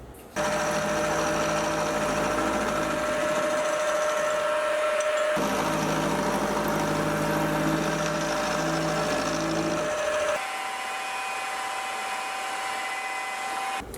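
Milling machine cutting an insert pocket into a steel fly cutter held in an angled vise: a steady high whine with a grinding cut that pauses briefly and resumes, then shifts pitch near the end.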